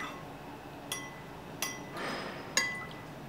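A spoon clinks against a glass while a vinegar and lemon hair mask is stirred, giving four light, sharp taps over faint background hiss, quiet and close.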